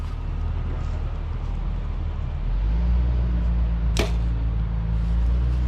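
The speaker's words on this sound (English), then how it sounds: "That little arrow's so quiet." An arrow released from a bow on an outdoor archery course in Beavers Bend State Park, Oklahoma, gives one quick, sharp whoosh over steady low outdoor rumble.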